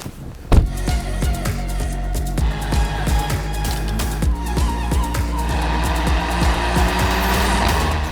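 A 2022 Audi S3 Quattro Technik accelerates hard, its engine revving up through repeated rising sweeps with quick gear changes, loud and continuous from inside the car.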